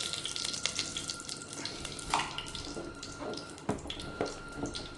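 Fenugreek seeds fry in hot coconut oil in a pan, giving a steady soft sizzle broken by occasional sharp crackles and faint stirring scrapes, close and fairly quiet.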